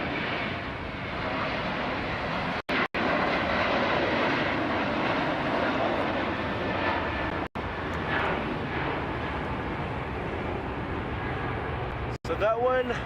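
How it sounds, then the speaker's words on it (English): A Boeing 777 freighter taking off from LAX airport, heard as a loud, steady jet roar that stays constant across the whole stretch, with people talking over it. "Got the plane taken off."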